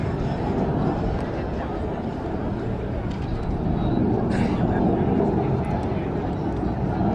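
An F4U Corsair and EA-18G Growler flying in formation at the California Capital Airshow, a steady loud jet and engine roar filling the air throughout while an announcer speaks over a PA.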